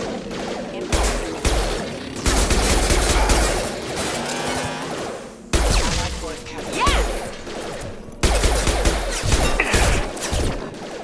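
Mass Effect 2 combat: bursts of rapid gunfire and sharp impacts come in loud, dense volleys, broken by brief pauses, with a voice occasionally mixed in.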